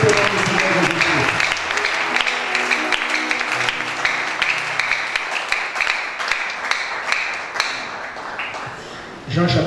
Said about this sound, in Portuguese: E aplaudimos fortemente o nome do Senhor Jesus Cristo